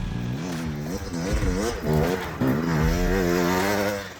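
Dirt bikes ride forest trails in Idaho in autumn, their engines buzzing and revving up and down steadily, close and loud with no pauses.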